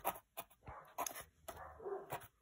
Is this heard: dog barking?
yes